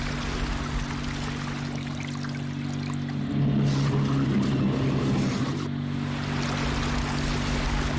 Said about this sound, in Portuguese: O som do motor é audível por quilômetros debaixo da água.